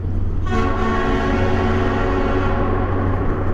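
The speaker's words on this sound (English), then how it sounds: "Somebody up there's got an air horn, and he cut it loose in this tunnel" A loud, sustained air horn blares from half a second in, echoing and booming in an enclosed tunnel, over the steady rumble of a 2019 Harley-Davidson Breakout motorcycle.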